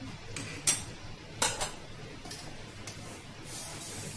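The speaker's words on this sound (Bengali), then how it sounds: "পুনরায় ঢেলে দিলাম লবণটা উত্তপ্ত কড়াইয়ের মধ্যে।" Salt poured back into a hot wok (kadai) while puffing rice, heard as a few quiet scattered rattling rushes and sharp metallic clinks at irregular intervals.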